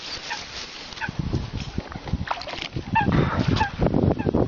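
A coot or duck calls at Sarısu lake, with short nasal honking notes repeated irregularly over rustling and low background noise at moderate distance.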